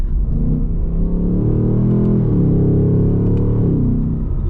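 A 2026 Ford Mustang GT's engine revs hard through its exhaust, a loud, deep, steady roar with pitch climbing, dipping briefly, then rising again, alone without talk.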